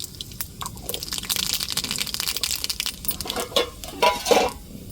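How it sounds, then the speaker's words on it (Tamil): Mustard seeds crackle and pop in hot oil, a busy run of sharp snaps and spatters close by, with no talking. "எண்ணெய் ஊற்றியாச்சு இப்போ கடுகு சேர்த்துக்கிடுவோம்"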